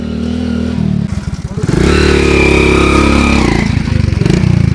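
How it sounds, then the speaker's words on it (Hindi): A motorcycle engine rides up onto a bridge on the Bihar–Nepal border, loud and close, revving and clattering as it climbs, with a steady throttle in the middle. "बाइक को ऊपर चढ़ाना बड़ा रिस्की काम है यहाँ पर"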